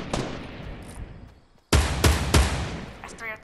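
Gunfire in the video game Fortnite: a quiet stretch, then a loud close burst of three or four sharp shots in quick succession, with faint game noise before and after.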